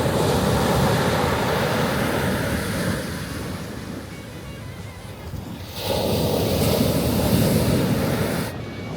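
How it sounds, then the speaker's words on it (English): Ocean waves crash on a beach near Victoria in a steady broadband roar, loud and continuous with a surge midway, and wind buffets the microphone throughout. "I could hear the waves crashing from over where we stopped for lunch, probably 150 meters away."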